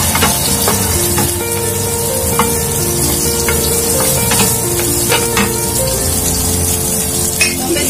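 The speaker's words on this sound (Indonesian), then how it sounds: "Tumis udang kering dulu." Dried shrimp stir-fry in a hot wok with a loud, steady sizzle and crackle, broken by occasional scraping and clinking of a spatula against the pan, heard close up with no talking.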